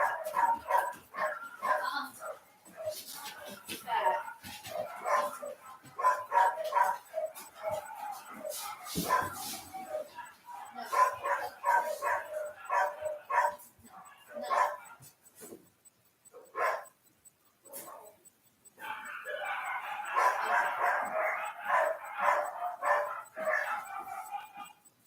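Several dogs, including one with behaviour problems, bark in repeated bursts with yips and whimpers, fairly close and loud, with pauses between volleys and a final sustained stretch of barking.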